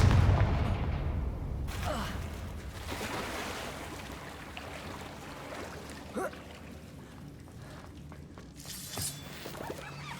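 Confringo blasting spell in Hogwarts Legacy, with a loud burst and shattering crash at the start, followed by a long, rumbling decay and a few scattered smaller impacts.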